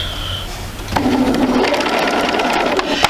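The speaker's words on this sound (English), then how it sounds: "we're starting to sew at the blunt edge down the right-hand side of our unit" Domestic sewing machine with a quarter inch foot stitching quilt sampler units along a straight edge, a steady close motor hum starting about a second in and running continuously to the end, preceded by a short whine.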